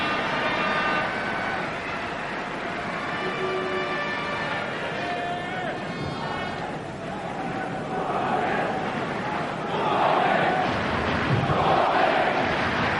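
The crowd in an ice hockey arena at the 1991 world championship game between Finland and Canada keeps up a lively, continuous roar with chanting and shouts, rising toward the end under a commentator's voice.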